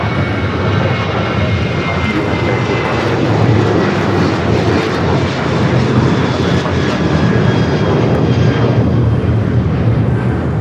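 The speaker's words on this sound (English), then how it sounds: "737-800 now rolling down to 25 left heading to Kona." A Boeing 737-800 jet roars down the runway on its takeoff roll at LAX, a loud, steady, broadband engine rumble that fills the scene without a break.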